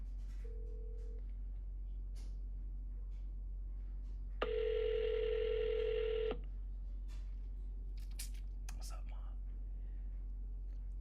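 A phone call ringing out while waiting for an answer: quiet line hiss with a soft tone, then one steady ring tone lasting about two seconds, followed by faint clicks and murmurs.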